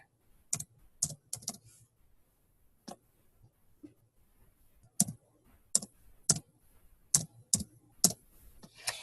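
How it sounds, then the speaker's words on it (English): Computer keyboard typing an order number, sharp separate keystrokes in irregular bursts with short pauses, close and clear with no voices. "And I'm going to type in my order number"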